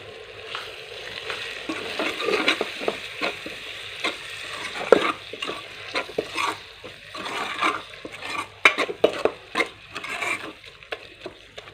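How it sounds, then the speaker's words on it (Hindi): Potatoes frying in a pan with red chili, turmeric and salt, being stirred: an irregular series of close scraping and clattering spoon strokes over a soft, steady sizzle, with no voices. "और इसको भून लेंगे थोड़ी देर के लिए"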